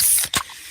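A freshly opened can of fizzy Pepsi lets out a quick, close spray of hiss followed by a softer fizzing trail, all within a moment.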